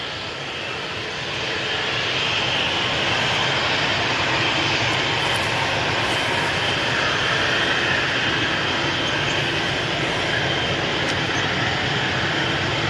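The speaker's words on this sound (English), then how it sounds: "So it's a Lufthansa A320 and they are going to be going back to Frankfurt." Lufthansa Airbus A320 jet engines at Manchester Airport, a broad steady roar that swells in over the first two seconds and then holds loud and constant, with no talk.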